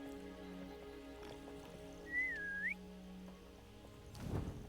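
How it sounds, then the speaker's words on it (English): A single short, rising and falling whistle, clear but moderate, sounds once mid-clip to call a hippogriff in Hogwarts Legacy, set over a steady low ambient drone, with a soft rustling thump near the end. "you're whistling for something to come flying in"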